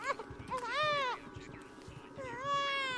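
A cat meows three times, close and fairly loud, each call rising then falling in pitch, over a faint background.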